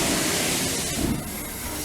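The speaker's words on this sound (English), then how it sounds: "There it is, the Flying Scotsman." Flying Scotsman steam locomotive approaching on a heritage railway, giving a steady, loud broadband hiss of escaping steam that runs throughout with slight surges, no clear speech over it.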